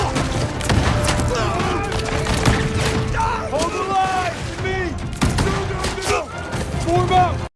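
Battle gunfire in a film as French troops attack a fort from behind the trees, with scattered sharp shots and dull booms under a narrator's voice and shouting.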